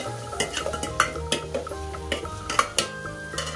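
Onion and tomato frying in a pan for an okra gravy, the utensil scraping and clanking against the metal in a rapid, uneven rhythm over a low, soft sizzle, close and fairly loud.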